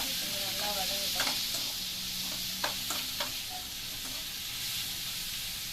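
Spinach greens for a keerai poriyal sauté in a salted pan with a soft, even sizzle, punctuated by a few clinking taps and scrapes of a stirring spoon, fairly quiet and without talk.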